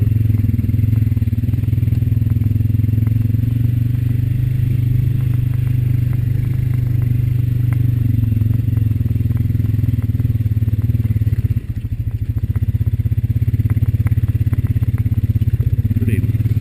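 Honda Rancher 420 ATV riding along a rocky logging road, its loud steady engine drone continuous throughout, with a brief dip and clatter near the end.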